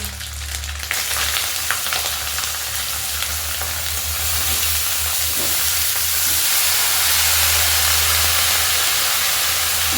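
Boiled banana flower, chickpeas and potato fry in a cooked spice masala in a pan for a vegetarian mochar ghonto. A loud, continuous hissing sizzle carries over a low steady hum, with no voices.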